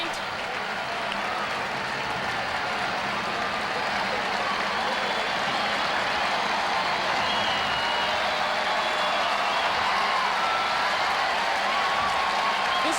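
A big tennis crowd at the 1986 US Open semifinal between Navratilova and Graf applauds steadily, a dense unbroken wash of clapping that holds at a full, even level throughout.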